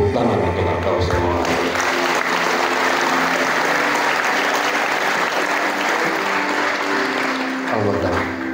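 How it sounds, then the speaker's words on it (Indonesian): A large gathering at the Al Kautsar Islamic boarding school in Cianjur bursts into loud, sustained clapping that fills several seconds, with a voice briefly heard at the start and again as the applause tails off. "Tepuk tangan untuk Al-Kautsar."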